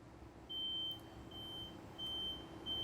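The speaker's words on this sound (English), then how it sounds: "an audible alarm goes off" Safety alarm on a Braun wheelchair lift pump beeping in repeated tones, steady pulses about a second apart over a low background hum, fairly close.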